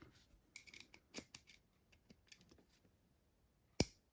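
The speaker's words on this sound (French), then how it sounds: "vous avez entendu le petit clic" A quiet, sharp click of an RC car clutch part snapping into place stands out near the end, after a few fainter ticks and rustles.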